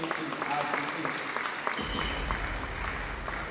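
An audience applauds at an awards ceremony and business summit, a sustained wash of clapping from a crowd that swells slightly partway through, with a voice faintly underneath.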